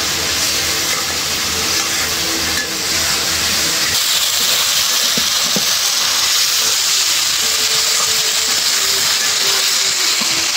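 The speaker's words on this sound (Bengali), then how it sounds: "মাছ ভালো করে কষাই নিতেছি মশলার সাথে।" Taki fish frying with spices in a pan, a loud, steady hiss of sizzling oil and steam that runs unbroken throughout at close range.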